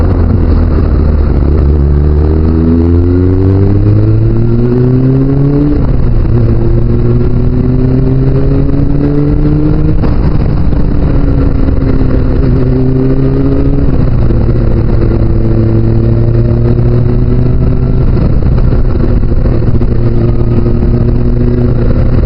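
Motorcycle engine droning steadily during an evening ride toward country roads, loud and close, with pitch rising through gear changes and a constant wind rush over it.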